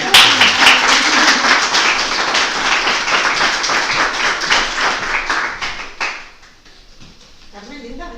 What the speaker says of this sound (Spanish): Otro aplauso para Carmen.